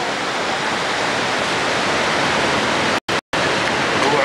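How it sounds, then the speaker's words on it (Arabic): A 25-metre waterfall fed by a river roars loud and steady, a dense wall of rushing water filling the whole span with two brief dropouts. "علو الشلال 25 متر اصلا جاي بقوه النهر"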